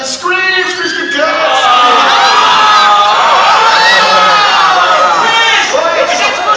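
A theme-park audience screams at a Universal Studios special effects stage show, a loud, sustained mass of shrieks and yells from many voices lasting several seconds.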